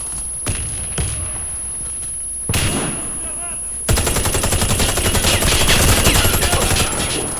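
A shotgun fires in a fast online shooter match, with a few sharp separate blasts followed by a long, loud stretch of rapid continuous gunfire mixed with other battle noise.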